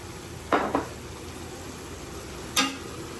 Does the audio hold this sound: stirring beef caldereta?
yes